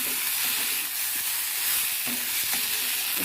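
Food fries in a pan with turmeric and salt, giving a steady, close, loud sizzling hiss with faint stirring scrapes and no talking.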